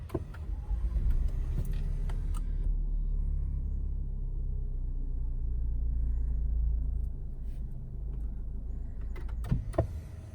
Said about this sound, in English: Several times we stop and start the engine.